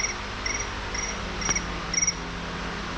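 Crickets chirp in a quiet room, with a few faint, regular trills spaced evenly over a low background hum. There is no talking.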